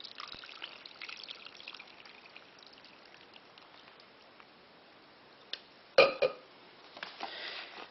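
Liquid with vanilla extract is poured over Christmas pudding fruit and stirred in, a faint close trickle, then a louder wet splash and a few sticky squelches of mixing.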